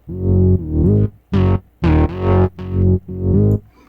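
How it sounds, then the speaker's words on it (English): A buzzy, distorted bass in EnergyXT plays a string of sustained notes while a filter shifts its tone, opening and closing the brightness from note to note. "If I start turning this up, you'll start to hear the filter"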